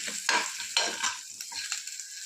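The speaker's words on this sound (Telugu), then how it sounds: "కొంచెం మిరపకాయలు వేసుకోవాలి కొంచెం జీలకర్ర పోపు దినుసులు కొంచెం వేగించుకోవాలండి" Chillies, cumin and tempering spices sizzle and crackle in hot oil for a ridge gourd chutney, with a spoon stirring the pan in a few scraping strokes, close and fairly loud, with no voices.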